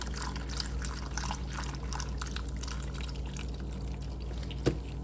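Liquid from ham hocks pours and trickles into a pot of green beans, a soft, continuous splashing that stays faint in a quiet kitchen.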